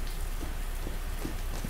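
Rainfall in Call of Duty Modern Warfare's Fog of War mission keeps up a constant broad wash of hiss, with faint irregular droplet taps throughout and no one speaking.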